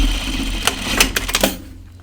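A serger runs over jacket fabric with a steady mechanical hum, broken by several sharp clicks and taps before it winds down at the end.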